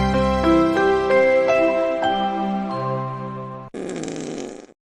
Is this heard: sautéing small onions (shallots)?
no